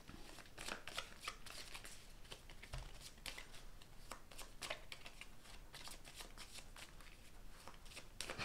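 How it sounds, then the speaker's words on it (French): Movement cards from the Vikings Saga board game are shuffled by hand, a quiet, steady run of rapid papery riffles and flicks close by, with no talking. "tu peux remélanger les cartes déplacement"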